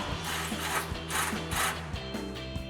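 A 10mm socket ratchet clicks in short repeated bursts while refitting exhaust bolts on a Ford F-150 fitted with a Corsa Performance Xtreme single exhaust, close and fairly faint, with no talk.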